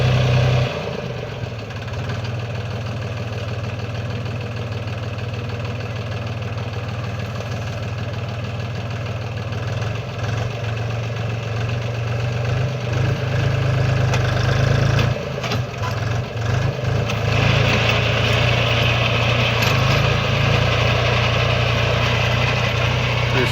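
Mini tractor engine running with a rotary tiller attached, a steady loud mechanical drone with a low throbbing hum, shifting slightly in load partway through.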